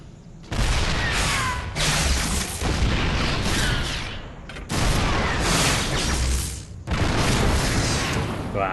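A StarCraft II battle between a Warhound and a siege tank brings loud, continuous booming explosions and weapon fire in dense bursts separated by brief pauses, with no speech.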